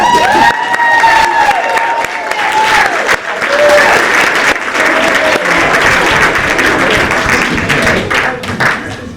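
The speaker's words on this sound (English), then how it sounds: "a big round of applause for his creation of the door" A loud audience applauds at a school theater production, with sustained clapping and some cheering while voices call out over the crowd.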